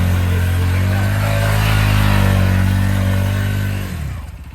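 A motorcycle engine runs in first gear during stunt practice, loud and close, holding a steady rough drone with a slight swell in revs before dropping away near the end, with no speech.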